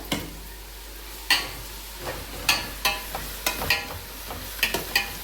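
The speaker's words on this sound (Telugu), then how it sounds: "ఇదిగోండి చక్కగా వేగినాయి ఉల్లిపాయలు పచ్చిమిరకాయలు" Onions and green chillies fry in a pan with a soft, steady sizzle, broken by several sharp clinks and scrapes of a spoon stirring against the metal, close and without talk.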